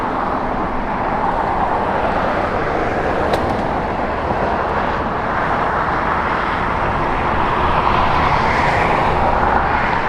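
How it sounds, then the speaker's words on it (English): A JetBlue airliner comes in fast to land on the south side of LAX, a broad continuous engine roar that swells slightly toward the end, steady and fairly loud with no talk. "we have another JetBlue arrival here on the south."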